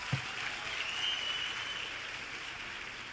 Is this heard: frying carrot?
no